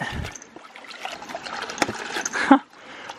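Water trickling and gurgling through a pipe after a valve to farm water tanks is opened, light uneven splashy flow close by with a brief louder gush.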